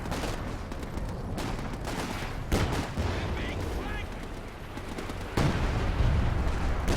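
Puma armoured car firing in a Company of Heroes 2 battle, its shots mixed into dense, continuous combat noise with sharper bursts standing out, while a commentator talks over it.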